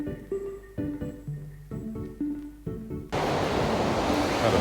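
Ocean surf rolls onto a beach on the Lost Coast Trail, a steady broadband roar that swells up loudly in the final second and a half after a stretch of quieter, voice-like murmuring.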